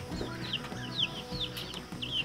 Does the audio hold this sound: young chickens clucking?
yes